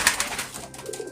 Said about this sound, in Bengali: আমার সিরাজি কবুতর এটা বয়স্ক